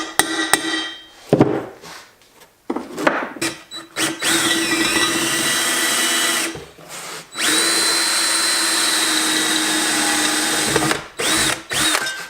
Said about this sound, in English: So we'll hole saw this out and then grind it down.